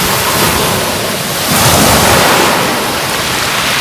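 Sea waves wash steadily along the Lingayen Baywalk shore, a loud, continuous broadband surf that swells and eases, with wind noise on the microphone and no voices.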